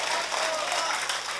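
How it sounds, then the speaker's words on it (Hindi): Audience applause at an Urdu-Hindi poetry recital, a dense steady burst of clapping that fills the whole short moment without a break. "एक बार जोरदार सारे लोग तालियां मिलके बजाएंगे।"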